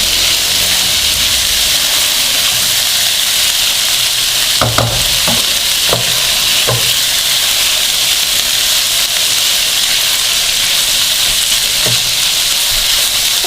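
Chopped green chillies sizzling in hot oil in a pan for a samosa filling, a steady loud frying hiss with a few scraping stirs of a spoon, no voices.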